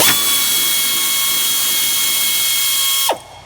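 Steady broadband whir of electric fans running in a garage during AC repair on a 2002 Honda CR-V, loud and continuous with faint tonal hums, cutting off abruptly near the end.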